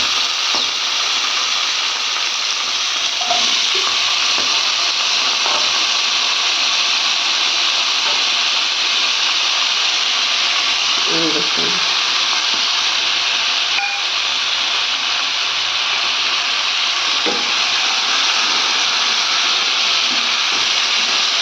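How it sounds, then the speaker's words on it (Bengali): Ingredients for a rice dish frying in a pan, a loud, steady hiss of sizzling oil running unbroken throughout, with a few faint clicks and scrapes underneath. "এইটাকে সব ভেজে নিচ্ছি।"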